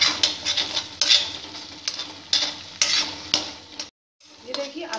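Tomatoes stirred and fried in masala for shahi paneer, a steady close sizzle with repeated scraping strokes of a spoon against the pan, briefly cutting out before the frying resumes.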